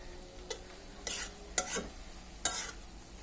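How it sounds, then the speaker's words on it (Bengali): Chicken filling being stirred as it fries in a pan, with a soft sizzle underneath and a few distinct scraping strokes of the spoon at uneven intervals, quiet and close. "নাড়াচাড়া দিয়ে দিই"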